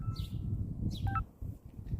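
A mobile phone gives a brief notification sound of a few quick electronic chirps, heard over a low, muffled background rumble.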